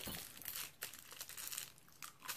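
Tarot cards rustle and crinkle while being shuffled by hand, a quiet, close, continuous papery shuffling with a few sharper flicks, no voice.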